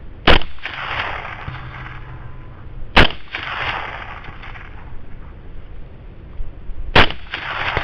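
Three sharp rifle shots at a range, widely spaced with a few seconds between each, loud and close, every crack trailed by a brief rumbling decay, no talking.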